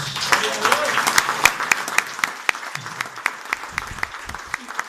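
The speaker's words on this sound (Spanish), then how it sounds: "¿Por qué no le damos un aplauso a Jesús?" Congregation applauding during a church service, a full crowd clapping whose crisp individual claps grow more distinct as it thins out, with a voice briefly present.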